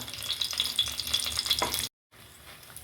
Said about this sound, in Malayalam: ഇനി ഇതിലേക്ക് നമുക്ക് വറ്റൽമുളക് ഇട്ട് കൊടുക്കാം